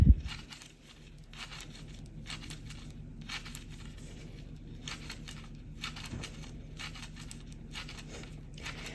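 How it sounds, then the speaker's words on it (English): Soft, irregular tapping and light clicking of a knitting needle against a board, faint and close, repeating in small clusters. "The noise you hear is the sound of my circular needle up against the artboard background"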